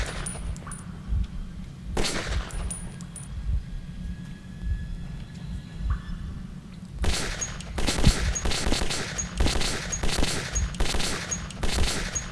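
Gunfire in Metro 2033 inside tunnels: an isolated loud shot or two, then a rapid run of sharp repeated shots near the end over a low rumbling game ambience.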